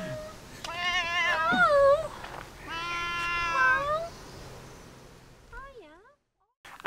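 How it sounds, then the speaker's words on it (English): A cat meows outdoors near Orford Castle in Suffolk, two long wavering meows close by followed by a fainter short one, with people talking softly in the background. "Cat!"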